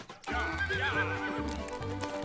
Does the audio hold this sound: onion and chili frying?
no